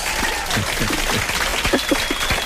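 An audience applauds a quiz winner, a dense and continuous patter of many hands clapping at moderate loudness with no break.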